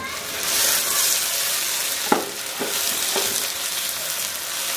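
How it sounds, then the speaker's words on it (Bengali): Steady sizzling and crackling of ginger and garlic paste frying in a pan, with a few sharp scraping clinks of a utensil stirring. "1 টেবিল চামচ আদা বাটা, 1 টেবিল চামচ রসুন বাটা দিয়ে এর সাথে একটু ভেজে নিব"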